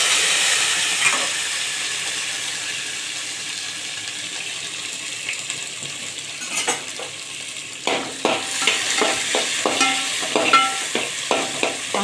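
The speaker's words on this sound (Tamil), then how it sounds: "வெங்காயம் கொஞ்சம் வதங்கட்டும்." Onion and tomato fry in a pan for a fish curry with a steady sizzle, then a spoon stirs and scrapes in repeated bursts toward the end, close and with no talking.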